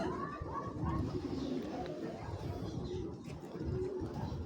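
A tagged racing pigeon gives low, throaty coos close by, repeating over a murmuring background with faint voices.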